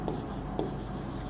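Pen scratching on paper during a biology lesson, two short distinct strokes close to the microphone over a steady low background hum.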